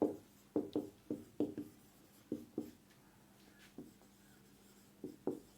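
Chalk or marker taps and scrapes across a board during a physics lecture, in short, irregular clusters of close strokes separated by brief pauses.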